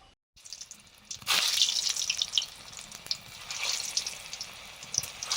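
Potatoes for alur dum are fried in hot oil, beginning with a sudden burst of loud sizzling that settles into a steady, crackling fry, close by with no talk.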